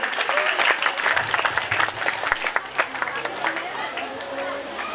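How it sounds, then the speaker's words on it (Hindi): Audience applause for children's Haryanvi folk dance performers at a cultural programme, dense continuous clapping throughout with crowd murmur underneath. "जोरदार तालियां इनके लिए।"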